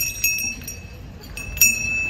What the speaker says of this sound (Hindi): सो घंटी कितनी अच्छी लग रही है।